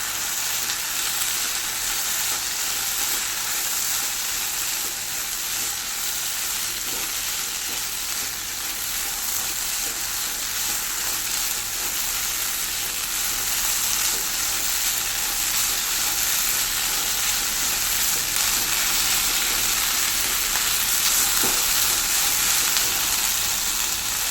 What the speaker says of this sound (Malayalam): നല്ലവണ്ണം മിക്സ് ചെയ്ത് കൊടുക്കാം തേങ്ങയുടെ ഒന്ന് പച്ചപ്പ് മാറണം